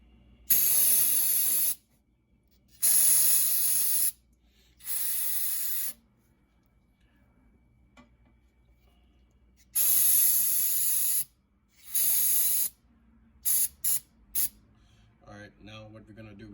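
Aerosol can of air intake cleaner hissing onto a car's MAP sensor, a Toyota Camry being fixed for a lean code, several loud close bursts of spray of a second or two each, with pauses and a few quick short puffs near the end.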